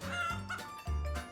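Loud, close clucking from hens being rescued from rubble in a war zone, harmonic calls in three bursts, the last one strongest.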